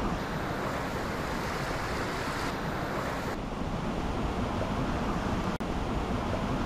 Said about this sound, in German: Dann werfen wir einen ersten Blick auf die in Kaskaden über 20 Meter herabstürzenden Wassermassen.